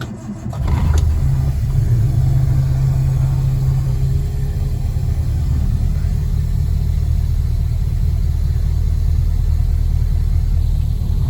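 A Standard Vanguard III's engine cranks briefly after sitting unused on a cold day, then catches and settles into a steady, loud low rumble at idle that runs uninterrupted to the end.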